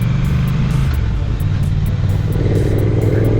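Triumph Thruxton TFC 1200cc single overhead cam twin motorcycle engine running steadily with a low, loud rumble throughout, rising slightly toward the end, no talk over it.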